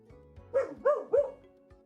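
A person mimics a dog barking, three short harmonic woofs in quick succession, close and fairly loud against a quiet background, during a fantasy story narration.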